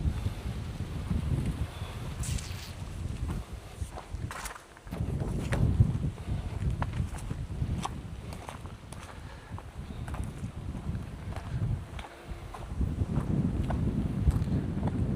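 Wind blows across a rocky riverside beach at Hat Hin Roi Rai in Ubon Ratchathani, a steady broadband rush buffeting the microphone, rising and dipping in gusts with a few faint clicks and knocks, no talking.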